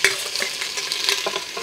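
Parboiled beef stirred in a pot, giving a continuous loud sizzle broken by quick scraping strokes, close and busy for under two seconds, with no voices.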